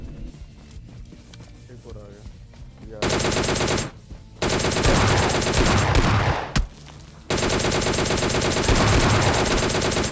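Automatic gunfire in the mobile battle-royale game PUBG Lite, firing in long loud sustained bursts separated by short gaps. Quieter game sounds come before the shooting starts.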